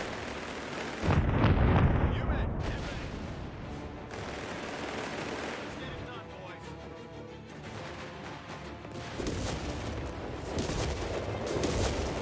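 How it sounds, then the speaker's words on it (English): Artillery fire in Company of Heroes 3, heavy booming blasts and scattered gunfire rolling across the battlefield, loudest early with a big impact, then continuing bursts and rumble through the rest. "Oh, the artillery missed."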